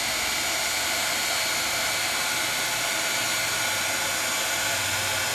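A heat tool melts embossing powder in a steady, loud, close-up blowing roar that holds unchanged from start to finish, with no voices.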